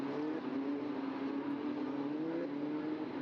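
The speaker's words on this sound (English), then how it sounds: "Cardenas hits the throttle" A Eurocup-3 single-seater race car at the Barcelona circuit accelerates under throttle, a steady, moderately distant engine drone with a rising pitch, heard alone.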